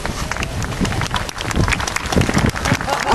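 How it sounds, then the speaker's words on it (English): Outdoor applause at a Battle of Britain weekend event greets a landing parachutist: a dense, steady patter of many hands clapping, close and continuous throughout. "so biggest round of applause for him"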